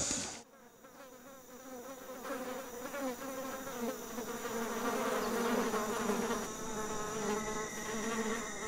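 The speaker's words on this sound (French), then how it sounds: "C'est ce qu'on appelle les abeilles moucherons." Sweat bees buzzing steadily nearby, a dense droning hum that swells and wavers as several insects hover around, with no voices.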